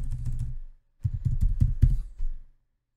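Typing on a computer keyboard in Windows 10, a quick run of key clicks, a pause, then another burst of close, clear keystrokes with no talking.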